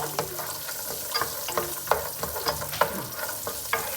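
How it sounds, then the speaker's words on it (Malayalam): A wooden spoon stirs food frying in ghee for biryani, with a steady sizzle beneath repeated scraping strokes against the pan at a quick, uneven rhythm, close and clear with no talking. "ഒരു ബ്രൗൺ കളർ ആവണവരെ എപ്പോഴും നമ്മളിങ്ങനെ ഇളക്കാട്ടോ"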